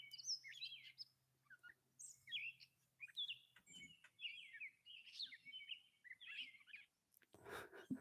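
Several small birds chirp and tweet in a smoke tree, with short bright calls repeating in quick irregular bursts over a faint low hum, fairly close and clear with no talking.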